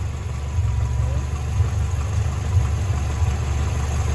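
A Vespa scooter engine idles steadily after a swap to an iridium spark plug, a close, even low-pitched putter with a slightly uneven lope and no voices over it.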